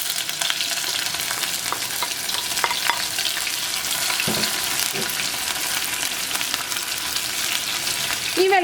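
Ginger, garlic and green chillies fry in hot oil with a loud, steady sizzle close up, broken by scraping stirs and the occasional clink of a spoon against the pan.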